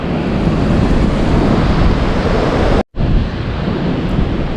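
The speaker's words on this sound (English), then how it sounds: "Oh, the wind." Strong wind roars across a late-November campsite at Dolliver State Park in north central Iowa, a loud steady buffeting close on the microphone that cuts out for an instant partway through.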